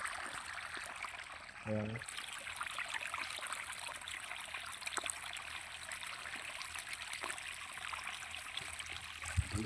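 Steady trickling irrigation water runs throughout a chickpea field, a soft continuous flow close by with a brief low thump near the start and no talking.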